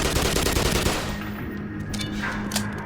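SMG fire from the Half-Life Black Mesa video game, a rapid, loud burst of automatic shots in the first second, then fading tails and scattered weapon clicks.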